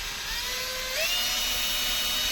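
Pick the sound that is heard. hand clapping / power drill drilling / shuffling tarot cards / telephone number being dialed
power drill drilling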